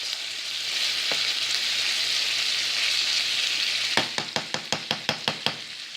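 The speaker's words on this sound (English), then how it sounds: "Now cook the bacon until it gets just a little bit crispy, but not overly do it." Bacon crisping in a pan for cheesy Velveeta spaghetti with onions gives a steady broadband sizzle throughout, joined near the end by a quick run of sharp, regular pops or taps, with no talk.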